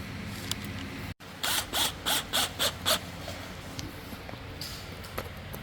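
Power drill driving small screws into pre-marked holes in dressing table panels (model WD6010), with about six short whirring bursts in a row, close and moderately loud, after a sharp click.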